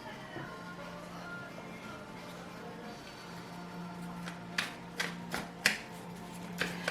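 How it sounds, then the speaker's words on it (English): Tarot cards being shuffled at close range, soft riffling under a faint background hum, then a run of crisp snapping flicks near the end. "I'm just going to shuffle the cards here"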